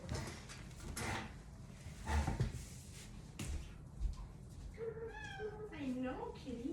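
A cat meows several times in rising, wavering calls near the end, following a stretch of background voices and household noise.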